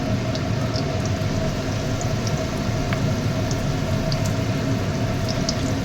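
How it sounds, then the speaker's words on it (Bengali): Fritters deep-frying in oil over a low gas flame give off a steady, dense sizzle with faint scattered pops, continuous and close throughout. "আবার দিচ্ছি তেলের মধ্যে, আবার দেবো একটা একটা করে। এই কুসুম গ্যাসটা বেশি জোরে লো ফ্লেমে করে বড়াটা ভাজতে হবে।"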